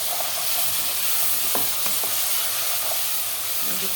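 Onion and garlic fry in oil, shrimp dish in the making, with a constant hissing sizzle and a few scattered scrapes and clinks of a spatula stirring the pan.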